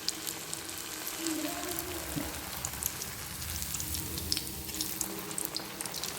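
Wheat-flour samosas fry slowly in hot oil, a continuous gentle bubbling sizzle with faint crackles, close and low in level.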